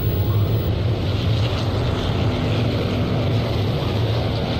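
A steady, loud engine drone fills the air, consistent with propeller aircraft passing overhead during the First Indochina War, with a faint low hum running throughout.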